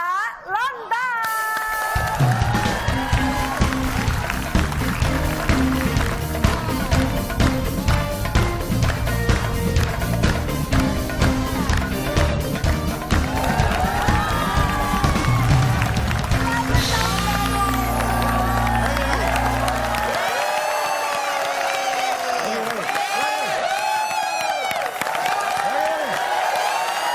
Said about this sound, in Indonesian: Karena ini adalah tepuk tangan pertama kita di tahun 2017